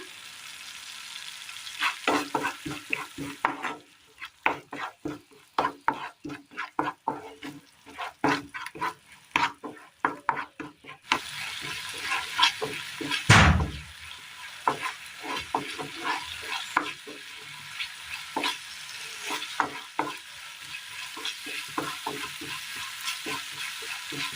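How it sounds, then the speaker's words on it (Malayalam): Curry leaves hit a hot pan of raw banana curry and sizzle steadily for a long stretch, with rhythmic stirring scrapes throughout and one sudden loud crackling burst partway through. "ഇതിലേക്ക് ഒരല്പം കറിവേപ്പില കൂടി ഇട്ട് കൊടുക്കുകയാണ്"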